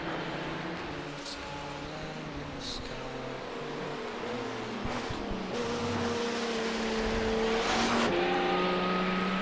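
A Le Mans Prototype 1 race car engine drones at a distance, its pitch rising and shifting as the car passes on track, with steady background noise.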